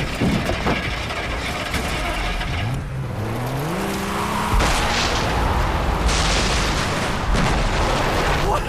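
A vehicle explodes in Far Cry 3 with a loud burst, followed by sweeping engine and mechanical whines. A rumbling roar and crackling debris fill the rest, with no talk.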